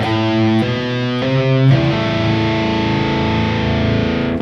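Distorted electric guitar plays a quick sequence of notes jumping between octaves, with a slightly smeared pull-off transition before settling into a sustained ringing tone.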